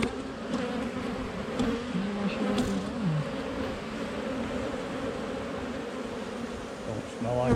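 Honeybees buzzing around an open hive, a dense continuous drone with individual bees passing close by, rising and falling in pitch over a steady swarm hum.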